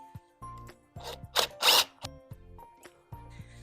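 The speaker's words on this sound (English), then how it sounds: "makes drilling that screw in easier" Short bursts of a power drill whirring as it drives exterior screws into a window basket, with two louder broadband spurts in the middle, separated by pauses and brief mechanical clicks.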